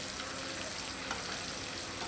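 Koi fish fry in hot oil in a pan, giving off a steady, even sizzle with faint crackles and one small pop, and no one speaking.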